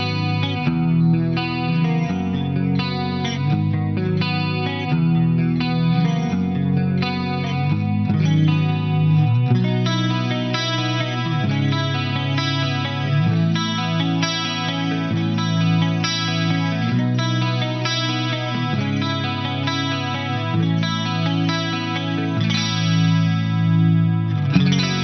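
Clean electric guitar chords ring through a Boss-style chorus pedal, giving a wide, lush shimmer without an obvious wobble. The playing is sustained and continuous, close and fairly loud, with no talking.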